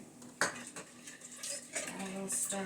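Oil is stirred in a pot while making red lentil soup in a quick cooker, with a sharp metallic clank of a utensil against the pot, then softer scraping and clinking, close and fairly quiet.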